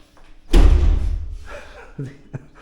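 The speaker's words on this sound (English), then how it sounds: "These doors just keep closing behind me." A door swings shut with a loud, heavy thud inside a large Italian property in Abruzzo, followed by a fading rumble and a couple of softer knocks.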